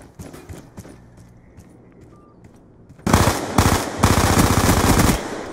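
Rapid bursts of automatic gunfire from a multiplayer shooter game, loud and close, firing in several clustered volleys during the second half after quieter game ambience.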